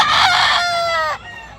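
A gamecock offered for sale at a market in Tabunok, Talisay, Cebu crows once, loud and close, with a long drawn-out call that trails off.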